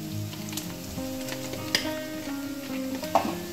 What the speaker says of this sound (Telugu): అల్లం వెల్లుల్లి పేస్ట్ పచ్చి వాసన పోయేలాగా కొంచెం వేయించుకుంటే బాగుంటుంది అన్నమాట